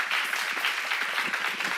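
A church congregation claps together during a Korean sermon seminar, a short, even burst of many hands that stays steady and moderately loud with no voice over it.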